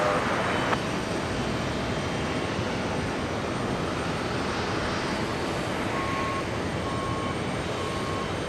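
A jet airliner roars steadily as it takes off from runway 22 right at JFK, a broad, constant engine rumble heard from a distance with no talk, a few faint high beeps near the end.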